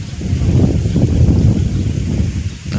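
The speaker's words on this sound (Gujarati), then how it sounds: "પવન બહુ છે" Strong wind buffets the microphone outdoors near roosting pigeons, producing loud, low, rumbling gusts that swell and ease over a few seconds, with no clear talk.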